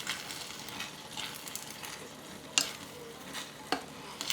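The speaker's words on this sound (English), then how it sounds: "We just give it a stir and mix it" Bean sprouts and spring onions get stirred in a clay pot over a soft continuous sizzle, with occasional sharp scrapes and clacks of a utensil against the pot.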